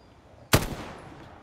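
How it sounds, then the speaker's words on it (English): A single loud gunshot from enemies in a multiplayer shooter video game, sharp and close, followed by a short fading echo. "They might be shooting at you."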